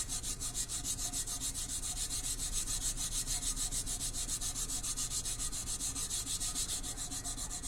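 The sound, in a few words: rubbing out dried tacky craft transfer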